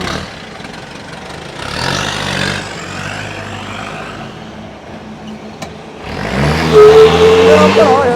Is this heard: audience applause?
no